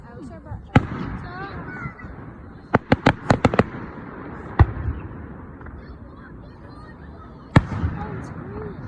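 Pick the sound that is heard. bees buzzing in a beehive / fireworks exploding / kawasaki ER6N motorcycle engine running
fireworks exploding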